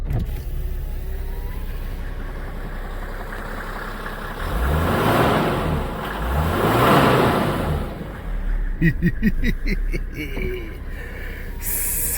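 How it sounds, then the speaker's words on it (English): Mercedes-Benz E300 diesel with a naturally aspirated inline-six cranking and starting, then a couple of rising revs and a steady idle, heard from inside the car with someone talking over it. "But let's crank her up."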